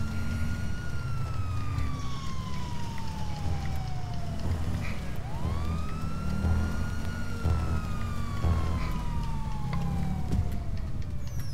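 A police car siren in GTA V wails in long rising and falling sweeps, loud and continuous over a steady engine and road rumble, with no talk.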